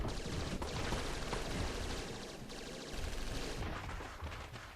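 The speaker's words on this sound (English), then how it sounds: "An endless stream of gunfire rings out from throughout the room." Dense, continuous video game gunfire from throughout a room crackles and roars without pause, a heavy wash of rapid shots filling the whole stretch, loud and close.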